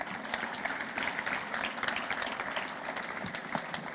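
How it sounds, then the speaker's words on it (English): A crowd applauds steadily at a Veterans Day ceremony, a dense wash of many hands clapping at moderate volume throughout, with some cheering mixed in. "one more round of applause for the mayor."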